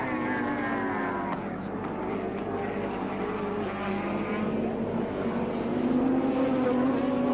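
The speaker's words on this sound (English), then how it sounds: "Alan Moffat now slams down the main straight, picking up 5th gear in the little Mazda" A Mazda touring race car roars down the main straight at Oran Park during a 1983 touring car championship round, its engine note rising through the gears, loud and sustained under a commentator's voice.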